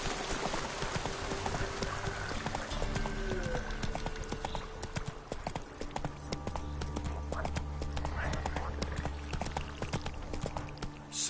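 Roach, a horse in The Witcher 3 video game, trots with steady rhythmic hoofbeats under continuous ambient background noise and faint tonal game sounds, with no talk.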